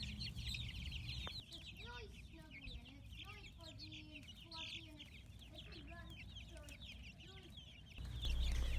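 Free-range heritage chickens clucking close by, a steady run of soft, rhythmic clucks and murmurs against a low background rumble, with a voice briefly heard near the end.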